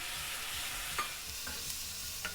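Chopped tomato sautéing with softened onions in a pan for idli masala: a faint, steady sizzle with a few light spatula clicks, brief and close, no voices.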